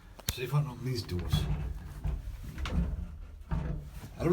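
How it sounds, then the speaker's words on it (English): Someone tries to force open the doors of a stuck lift: scraping, knocking and rattling bumps of the doors, close and uneven, mixed with a person's voice. "See if I can open these doors."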